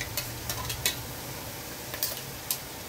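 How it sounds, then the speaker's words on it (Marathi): Masala paste roasts in a pan with a faint, quiet sizzle, broken by a few sharp scrapes and taps as it is stirred. "हे मसाला आपला छान असा भाजून घ्यायचा आहे"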